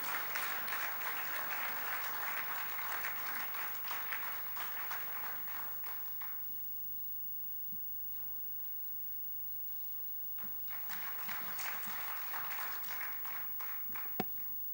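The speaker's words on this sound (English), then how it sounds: "Let's have another huge round of applause, ladies and gentlemen." Audience applause fills a hall at a 2013 business convention inauguration, loud sustained clapping that fades to near quiet midway, then swells again into a second strong round.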